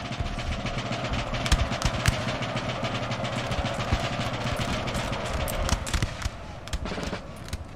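Musket volleys crackle through a Napoleonic Total War 3 4v4 video game battle on a hill, a dense, continuous stream of overlapping shots with sharper nearby reports over a steady rumble.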